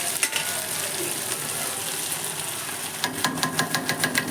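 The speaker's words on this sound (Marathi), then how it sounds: "सगळं साहित्य व्यवस्थित खालीवर हलवून घ्यायचं." Ingredients for veg pulav, including potatoes and spices, sizzle in a hot pot. A spoon scrapes and stirs them, and the rhythmic scraping strokes grow more distinct toward the end.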